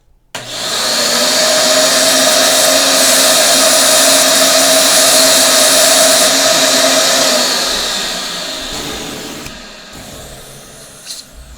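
A vacuum cleaner switches on and runs loudly with a steady whining roar for several seconds, held close to a Necchi Supernova sewing machine, then winds down and fades out.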